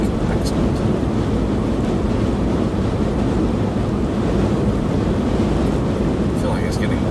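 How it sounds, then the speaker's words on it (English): Strong wind roars steadily across the microphone during a storm chase ahead of a tornado threat in Missouri and Illinois, a loud, continuous rumbling gust noise with no spoken words. "I feel like it's getting windier."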